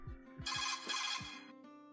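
A landline phone rings with an electronic trilling tone, quiet and slightly muffled, lasting under two seconds.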